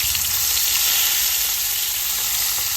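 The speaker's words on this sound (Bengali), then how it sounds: "মাছগুলো ভালো করে ভেজে নেব।" Fish pieces frying in hot oil in a wok, a dense, loud and steady sizzle heard up close without any voices.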